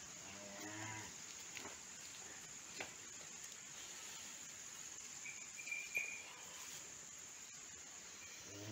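A tired, underfed cow that has just calved lets out a low moo near the start. Crickets chirp steadily through the rest of the quiet outdoor scene.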